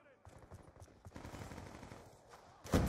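Rapid bursts of two-shot pistol gunfire crackle through a busy video game soundscape, ending in a louder, sharper blast.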